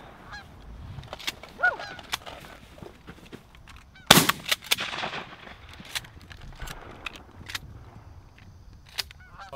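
A flock of geese honks loudly on an early-season goose hunt, with calls scattered throughout and a sudden sharp burst of gunfire near the middle, followed by more honking.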